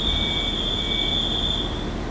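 The Resort Shirakami No. 4 rapid train to Akita departs from platform 3 at JR Aomori Station, giving off a steady, high-pitched metallic whine like wheels squealing, held without a break over a low rumbling background.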